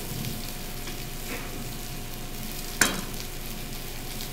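Onion sizzles steadily after being added to a hot pan by a guest chef, a constant hiss with one sharp crackle near the end and no talk over it.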